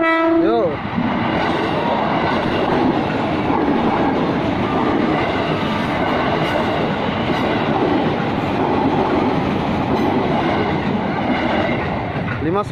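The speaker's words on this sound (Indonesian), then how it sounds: "Kereta berikutnya berangkat Depok yaitu kereta Batubara" A coal train rolls through an Indonesian commuter station near Depok, a loud, steady rumble of heavy wagons with rhythmic wheel clatter filling the whole stretch and a horn blast right at the start.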